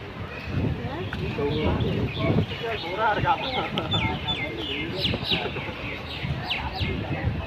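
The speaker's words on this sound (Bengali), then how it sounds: "চিড়িয়াখানায় ময়ূর ডাকাটাই করতেছে, ওখানকার সব ময়ূর।" Peafowl at Bangladesh's National Zoo call repeatedly in scattered shrill cries amid a busy crowd, with people talking throughout.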